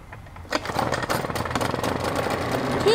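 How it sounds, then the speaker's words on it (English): A small engine fires up on a cold start after being choked and settles into a steady, fast chugging run, heard close and loud once it catches about half a second in. "This is a cold start because I am touching the muffler right now."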